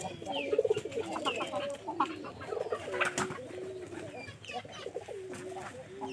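Pigeons coo close by in repeated soft, throaty, rolling calls that overlap one another, with other birds faintly in the background.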